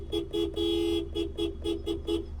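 A car horn sounds in a run of about seven short honks, with one longer blast near the start, close and clear over low engine rumble.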